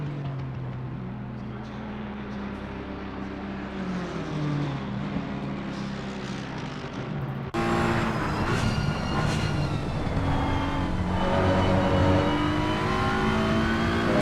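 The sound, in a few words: race car engines at Silverstone, from video game Assetto Corsa Competizione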